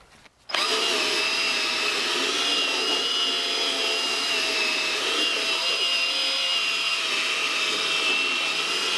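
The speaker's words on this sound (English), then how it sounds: "get the drill and give it a froth." A handheld drill spinning a soft brush to froth upholstery cleaner into a car's cloth driver's seat, a steady loud whirring drone that starts abruptly after a brief quiet moment and runs on unbroken.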